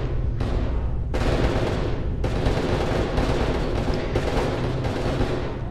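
Rapid, loud bursts of gunfire in the shooter game F.E.A.R. 2, several sustained volleys with brief gaps between them, dense and close.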